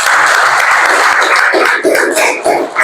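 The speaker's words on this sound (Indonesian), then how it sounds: "Berikan tepuk tangan untuk kelompok 4" Classroom audience of students applauds group 4 during a lesson, loud continuous clapping close by with a few voices mixed in.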